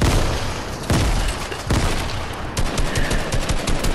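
Bursts of rapid video game gunfire in Fortnite, loud close volleys of repeated shots, with a few distinct heavy booms spread across the few seconds.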